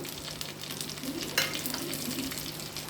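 Chopped onion, green chili and curry leaves fry in hot oil in a clay pot, a soft, even sizzle with faint stirring and one brief clink, quiet and close with no voices.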